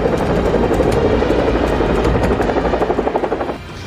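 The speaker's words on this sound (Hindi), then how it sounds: "ये थे ब्रिटेन की चिनूक हेलीकॉप्टर" Twin-rotor British Chinook helicopters flying low, a loud, dense rotor roar with rapid rhythmic blade chop that grows more pronounced before dropping off near the end.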